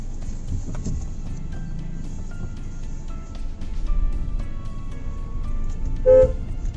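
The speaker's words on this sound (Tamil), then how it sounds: "இதோட ஹார்னிங் ஆப்ஷன்ஸ் பார்த்தீங்கன்னா ஸ்கோடாவில் இருக்கிற மாதிரி டுவல் ஹார்னிங் ஆப்ஷன்ஸ் கொடுத்துருக்காங்க." The dual horn of a 2020 Hyundai Creta SUV sounds in short toots heard from inside the car over a low cabin rumble, with a sharper, louder honk near the end and no talk.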